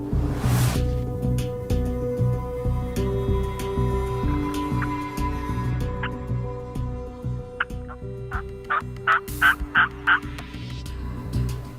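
Wild turkeys gobble during turkey season in a series of loud, close calls that quicken into a rapid run near the end. A low steady rumble runs underneath throughout.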